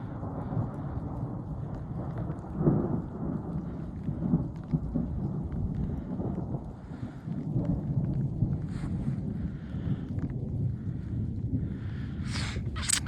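Rolling thunder rumbles low through steady rain during a severe March thunderstorm, heard from outdoors at a moderate distance, with some wind buffeting the microphone.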